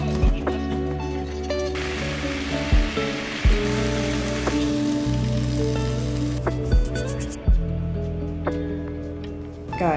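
Apples caramelize into a syrup in a hot pan with a bright, steady sizzle. Sharp spattering pops and occasional knocks come through up close and fairly loud, with no talking.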